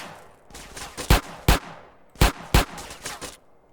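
Gunfire in GTA San Andreas: two tight pairs of loud, sharp shots with faint rattling bursts between them, close and clear with no talk.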